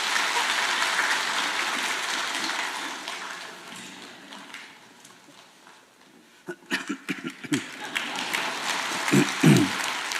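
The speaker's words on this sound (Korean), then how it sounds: "우리 박수로 이 아이를 축복합니다." A church congregation claps at a Sunday service to bless a child, a dense wash of applause that fades after a few seconds into scattered single claps and soft thumps.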